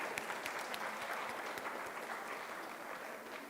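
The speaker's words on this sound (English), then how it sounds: "Big round of applause for everybody." An elementary spelling bee audience claps steadily through the whole stretch, a dense even patter of many hands at moderate distance that slowly tapers in loudness toward the end.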